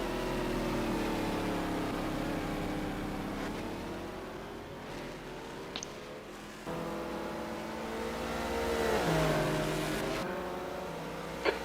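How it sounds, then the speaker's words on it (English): Ferrari race car engine in a racing video game at the Nürburgring 1000 km, a steady loud whine with rising and falling pitch through gear changes, revving and shifting continuously without talk. "I can hear the Ferrari from miles away."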